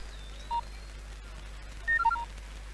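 A telephone keypad dials a call in a Telugu action film scene: one short beep, a pause, then a quick run of several tones, fairly faint over a quiet background.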